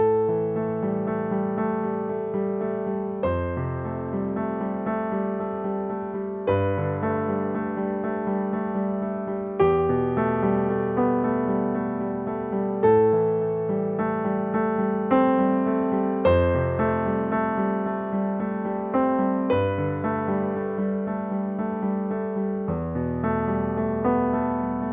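Piano playing with both hands, steady rolling chords under a melody line, full and sustained at close range with no voices.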